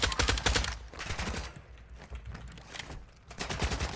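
Video game gunfire in a shooter match, rapid bursts of automatic fire, close and dense, breaking off briefly then resuming with sharp repeated shots.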